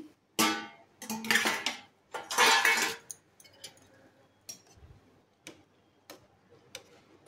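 A lid lifted from a pot of boiling kulekhara greens, heard as a cluster of metallic clinks and scrapes followed by scattered lighter taps and ticks close to the microphone, with no talking.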